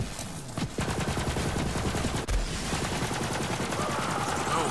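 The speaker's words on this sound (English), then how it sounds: "what is this gun shooting right now?" Rapid automatic gunfire from a weapon in the video game Borderlands 3, a dense continuous burst running loud and steady nearly the whole time, with a sharp heavier thump partway through.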